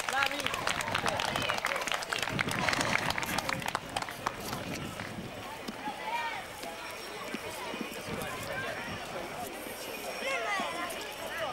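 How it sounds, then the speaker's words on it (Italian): Crowd applause at an outdoor horse-riding event in Sardara, greeting the riders of the Sardara group: loud dense clapping that swells early and then fades, mixed with a public-address voice and the background din of the gathering. "Un applauso ai cavalieri del gruppo di Sardara."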